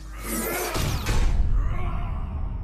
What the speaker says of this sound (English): And shoot energy balls from his hands!